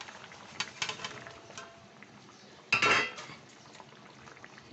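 Fried fish-roe koftas are dropped into boiling curry in a pan, making a few soft clinks and taps, then one louder splashing plop followed by quiet bubbling.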